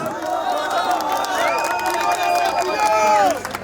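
A crowd at a political rally stage in Turkey cheers and shouts, with loud, sustained voiced calls and whoops over a noisy hubbub and only light clapping.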